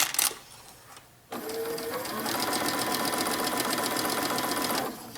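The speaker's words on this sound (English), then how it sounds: "So I'm going to sew this up." A sewing machine sews the hem of a 1960s vintage dress: after a quiet start with a few faint handling sounds, a steady rapid stitching buzz runs close and even for several seconds, then stops.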